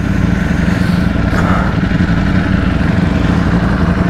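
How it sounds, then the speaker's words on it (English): A Ducati V4S motorcycle, a Streetfighter or Panigale, rumbles close by with a loud, steady low exhaust burble and light mechanical clatter, holding a consistent idle-like throb for a few seconds. "Symphony of Ducati sound, symphony of Italian masterpiece."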